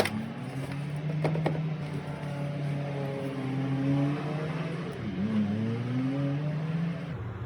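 A 2020 Lincoln Corsair engine runs steadily at idle, a low droning hum with a slight rise and dip in pitch partway through, fairly close and continuous.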